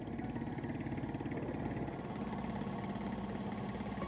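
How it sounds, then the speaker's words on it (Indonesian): Ketek boat on the Musi River in Palembang, its small engine chugging in a steady, rapid tek-tek-tek pulse, close and continuous with no voices. "Bunyi mesinnya yang khas, yakni tek-tek-tek, membuat orang Palembang menyebutnya sebagai perahu ketek"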